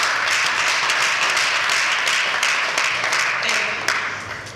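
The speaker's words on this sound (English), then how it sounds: "Please give them a round of applause." Audience applause at a live event, a steady dense wash of clapping that holds for several seconds and then gradually fades, fairly loud.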